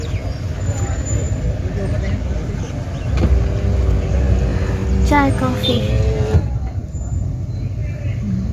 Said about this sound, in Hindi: अल्लाह कितनी ट्रैफिक है सामने